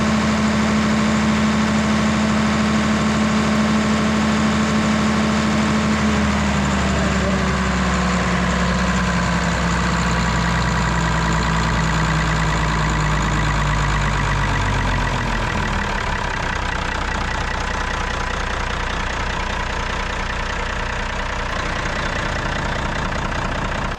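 An irrigation pump engine idles loudly and steadily in a maize field, then its pitch sags and winds down partway through before settling into a lower, rougher running drone.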